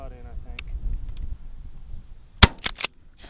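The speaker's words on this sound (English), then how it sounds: "Did we both shoot at the same time?" Sharp, loud shots from .410 shotguns fired at doves outdoors, with a faint early pop and then a close cluster of two or three near-simultaneous blasts, amid quiet voices.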